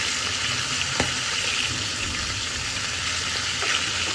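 Hilsa fish pieces fry in a frying pan with a dense, loud, continuous sizzle, marked by one brief knock of a utensil.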